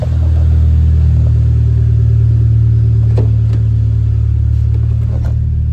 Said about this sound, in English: It's a running and driving Evo.